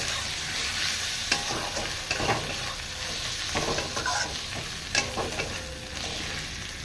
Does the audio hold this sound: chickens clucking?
no